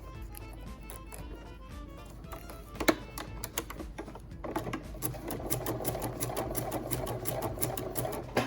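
A sewing machine zigzag-stitches along the edge of a neoprene face mask with a fast, even mechanical rattle, close and steady, growing fuller and louder partway through, with no speech.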